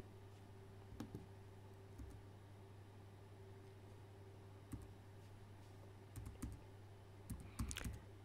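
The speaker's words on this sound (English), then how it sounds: "you can start pressing any of the key in your keyboard" Computer keys pressed one at a time, giving sparse, faint clicks and taps at irregular intervals over a steady low hum, with a small cluster of quicker presses near the end.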